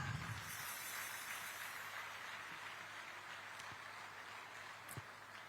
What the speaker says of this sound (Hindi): तालियां हो जोरदार।